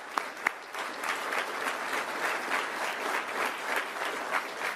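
An audience in a hall applauds steadily, a dense wash of clapping that holds evenly from start to finish after a couple of sharp opening claps.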